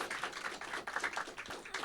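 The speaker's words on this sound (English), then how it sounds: "Racinos a tremendous round of applause?" Brief, faint clapping from a small audience at a school media team appreciation ceremony, uneven individual claps rather than a full dense ovation.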